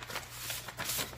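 Close paper rustling as a small envelope is handled, a few brief crinkly bursts over a quiet background.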